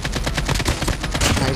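Rapid automatic gunfire in the mobile game Call of Duty Mobile, a loud, sustained burst of closely spaced shots rattling without pause.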